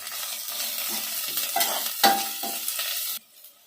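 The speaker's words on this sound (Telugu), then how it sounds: "తర్వాత అల్లం వెల్లుల్లి పేస్ట్ వేద్దాం" Ginger garlic paste sizzles loudly in a hot pan while a spoon stirs and scrapes through it close up, the frying cutting off abruptly near the end.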